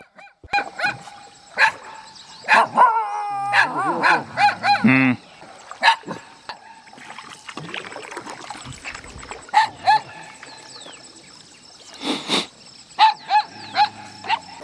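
Outdoors by the water on a fishing outing, a stray dog barks repeatedly in loud, close bursts scattered irregularly across the stretch, with a few honking, fowl-like calls mixed in between.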